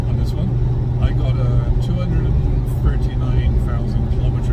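A 1991 Range Rover Classic with about 239,000 km on its engine idles smoothly and quietly, a steady low rumble running throughout while someone talks over it.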